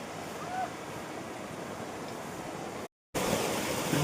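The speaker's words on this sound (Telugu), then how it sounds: "మీరు వాటర్ ఫాల్ ఎంత బాగుందో చూస్తున్నారు" A waterfall pours in a steady, even rush of water, continuous and moderately loud, broken by one brief moment of silence near the end.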